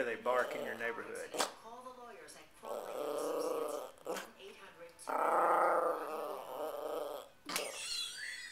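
A dog growls nearby in several rumbling bursts, separated by short pauses and sharp huffs, fairly quiet overall.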